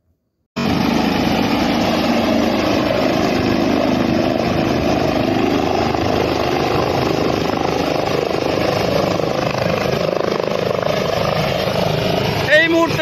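A helicopter on a trial run at the Barrack Square ground in Berhampore, Murshidabad, its loud, steady rotor and engine roar starting abruptly and holding close and continuous, with a brief click near the end.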